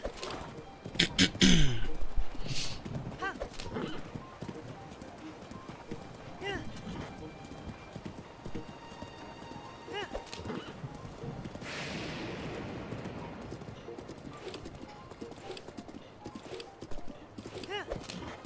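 A horse gallops in Breath of the Wild with quick, rhythmic clip-clop hoofbeats, an occasional neigh and bird calls in the background, with a voice talking at times over the steady hooves.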